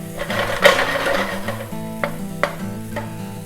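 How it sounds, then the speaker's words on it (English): Grated coconut dry roasting in a pan for a quail egg masala, a soft sizzle with scattered clicks and scrapes of a spatula stirring, fairly close and steady. "we add approximately half a cup, this is actually a small cup, of coconut, and we kind of dry roast it a little bit"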